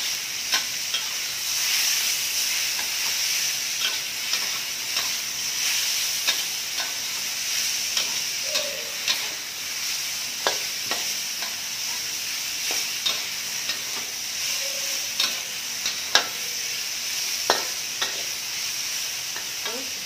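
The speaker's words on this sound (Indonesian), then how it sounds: "Kita masukkan ini pepaya mudanya. Kita tumis sampai wangi ya." Young green papaya is stir-fried in a hot pan with a soft, steady sizzle and hiss. Repeated spatula scrapes and light clinks come at an irregular rhythm, close by, with no talking.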